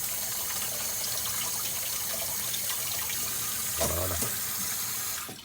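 Chicken escalopes are rinsed under a running kitchen tap, water gushing steadily and splashing as the meat is moved under the stream, with a brief spoken word near the end.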